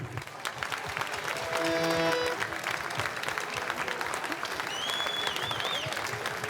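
At an open-air wind band concert in a town piazza in Jesolo, the crowd breaks into dense, sustained applause with scattered voices and a few brief tonal sounds mixed in.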